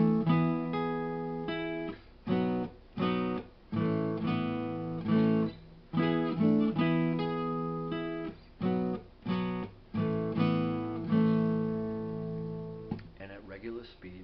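Acoustic guitar played slowly through the chords of a song, strummed chords ringing in a steady, unhurried rhythm with brief pauses between changes, close and clear with no talking.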